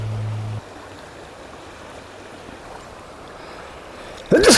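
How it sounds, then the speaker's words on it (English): Beside a fast-flowing stream during fly fishing, water rushes softly and evenly for several seconds before one sudden, loud, close sneeze bursts out at the very end. "I sneezed"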